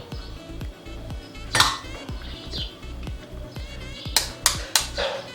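Eggs being cracked into a mixing bowl for scone batter, heard as a few sharp taps and clinks against the bowl amid faint kitchen clatter and bursts of handling noise, with no talk.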